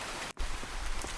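Heavy, steady rain pours down in a cartoon horror scene, a dense wash of hiss and patter that cuts out for an instant before returning just as loud.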